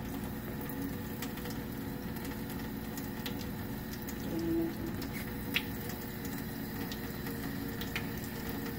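Water runs steadily from a faucet into a sink, a constant soft rush with a few faint clicks and drips nearby.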